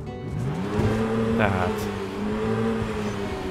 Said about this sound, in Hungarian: Induljon be az autó